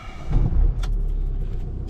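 A car drives along, close and steady, with a low engine and road rumble and a few light rattles inside the cabin.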